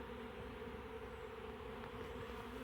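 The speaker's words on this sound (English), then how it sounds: "the bees are really starting to go towards that box" Honeybee swarm moving into a box, a dense continuous hum of many bees buzzing close by, steady and unbroken throughout.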